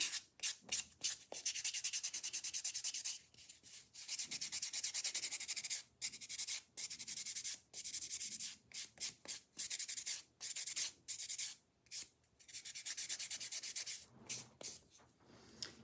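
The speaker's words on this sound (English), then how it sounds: "now I'm going to take my buffer and I'm just going to buff the top of it so that way it's nice and smooth" A nail buffer rubs across the top of an acrylic dip-powder nail in quick bursts of dry, scratchy strokes, close and steady, broken by short pauses.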